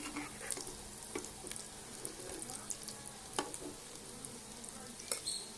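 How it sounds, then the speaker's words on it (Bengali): Egg and potato kebabs frying in hot oil, a steady faint sizzle with occasional light crackles and pops throughout. "লাল লাল করে ভেজে নেব"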